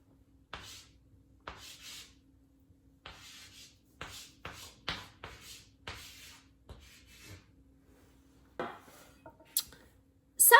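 Marker or pen writing a chemical formula on a board: short scratchy strokes and squeaks in irregular bursts separated by pauses, close and fairly quiet, with no talk.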